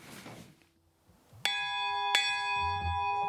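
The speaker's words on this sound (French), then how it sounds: "Cette cloche, elle sert à avertir." A warning bell at an old assembly residence is struck twice, each stroke ringing out loud and resonant with a long sustained tone that carries on after the second hit.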